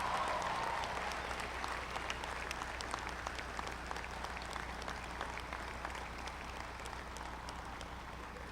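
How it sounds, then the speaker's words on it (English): Sustained audience applause at an outdoor-style college undergraduate commencement ceremony, many hands clapping together in a dense, even wash that starts strongest and tapers slightly over about eight seconds, with no speech over it. "Let's have a round of applause for them as well."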